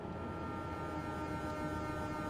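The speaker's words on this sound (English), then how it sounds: "Got the Train of ATS 1 horn here." A sustained, steady train horn from the ATS 1 locomotive in the Train Drive ATS 2 video game, holding one continuous tone at constant loudness with no break or talking.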